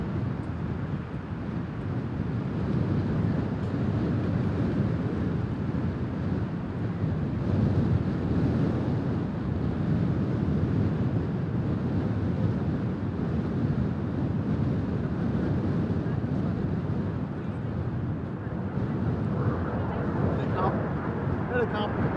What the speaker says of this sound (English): so windy I can't hear nothing anyway